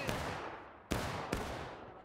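Muskets fire in the Civil War game War of Rights, a few separate sharp cracks spaced unevenly, each trailing off into a long echoing decay, fairly distant and with no talk.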